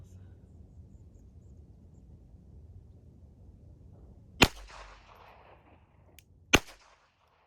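Two sharp, loud gunshots from rifle rounds of Winchester Hyper Velocity ammunition crack out a couple of seconds apart, each with a short echoing tail, following a stretch of quiet low background noise.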